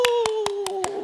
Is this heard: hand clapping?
yes